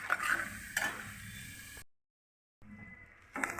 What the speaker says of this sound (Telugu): మళ్ళీ ఇంకా మినప్పప్పు, ధనియాలు, మళ్ళీ జీలకర్ర అవన్నీ వేసి కొంచెం దోరగా వేపాలి.